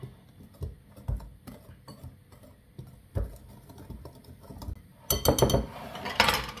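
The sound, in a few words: quickly mixing financier almond batter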